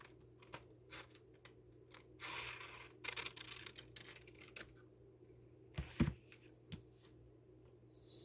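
Scissors fussy-cutting paper pieces for a glue book, giving a few short, quiet snips and rustles scattered across a soft indoor background with no talk.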